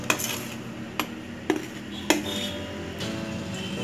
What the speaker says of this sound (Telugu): ఇప్పుడు మనం ఇందులో ఫ్లోర్ కొంచెం కొంచెంగా వేసుకుంటూ మనం మిక్స్ చేసుకుందాము